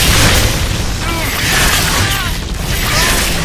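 Explosions and fire in the video game Gears of War 3, a dense, loud, continuous rumbling roar of blasts and debris with no clear gaps, filling the whole stretch.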